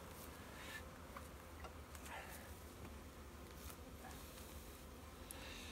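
A steady, dense buzzing of many bees around a hive feeder, close and continuous, with a low droning hum throughout and no voices.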